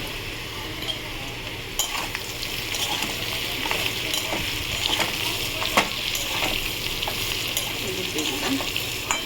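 Potatoes frying with turmeric in a pan give a steady, continuous sizzle with occasional clinks and stirring scrapes, close and fairly loud, with no talking.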